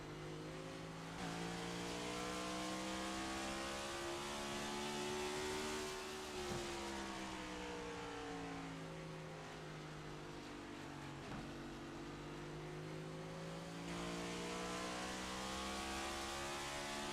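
A race car engine in a sim racing game drones loudly and steadily. Car 20 holds its gear without shifting, so the pitch rises and falls smoothly over a long stretch while other engines blend in beneath it.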